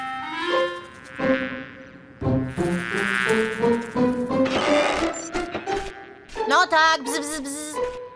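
Buzzing insect sound in an animated children's cartoon, a wavering drone with musical tones that rises and falls for several seconds, fairly loud throughout.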